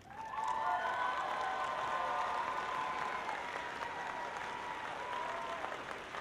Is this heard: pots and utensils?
no